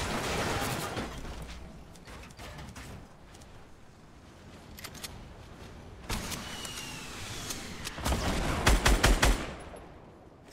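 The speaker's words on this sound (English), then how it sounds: "Stop shooting at me! How many bullets have you got?" Gunfire in the Fortnite: Battle Royale video game: bursts of rapid shots crack over a steady game background, with a dense, loud volley of fire near the end.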